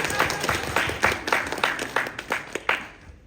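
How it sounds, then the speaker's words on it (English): Scattered hand claps from a small audience at a convention Q&A session, a sparse uneven patter of individual claps that fades out toward the end. "You can applaud, it's okay."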